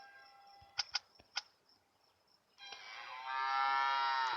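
A cow in a farming video game lets out a long, loud moo near the end, after a few short clicks and a quiet stretch, with no talking.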